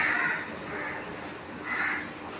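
Crows caw at a railway station in Ernakulam, two or three harsh calls spaced apart, moderately close, with only steady background noise between them.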